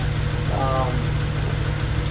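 A freshly rebuilt Honda Civic D16Y8 engine idles steadily nearby with a low, even hum, and a brief tonal whine rises and fades in the middle of the run.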